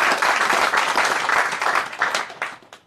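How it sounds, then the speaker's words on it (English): A warm round of applause from an audience at an evening startup event in Brussels, lively individual claps blending into a steady wash that thins and tapers off toward the end. "maybe we can start with a warm applause right now"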